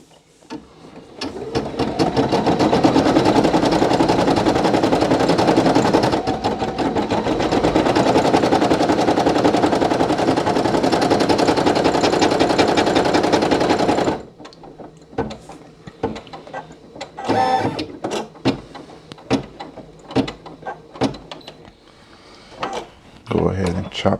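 A Brother PE800 embroidery machine stitches a design with a loud, rapid, steady mechanical chatter for about twelve seconds. It then stops, leaving quieter scattered clicks and handling noises.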